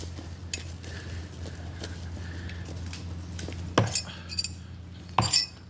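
Throwing knives striking a dead tree outdoors, two sharp close thunks about a second and a half apart over a steady low background hum, no talking.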